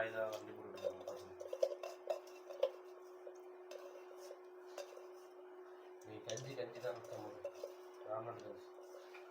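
Soaked rice, fenugreek, toor dal and chana dal are stirred in a metal pot, giving faint scattered clinks and scrapes under quiet talk, with a low steady hum beneath.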